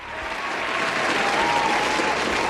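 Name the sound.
applause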